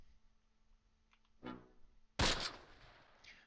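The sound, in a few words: gunfire in Close Combat video game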